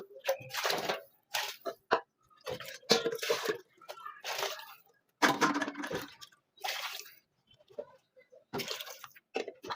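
Hot water is poured into a pan of rice on the stove, making a series of close, irregular splashing and sloshing bursts separated by brief pauses.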